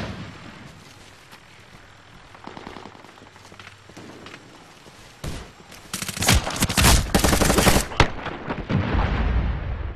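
Sustained machine gun covering fire in the Medal of Honor: Warfighter shooter, starting as quiet scattered distant shots, then erupting into loud, dense rapid bursts that dominate the second half.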